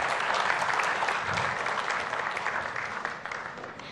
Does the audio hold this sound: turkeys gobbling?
no